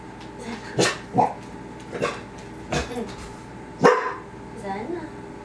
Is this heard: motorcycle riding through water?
no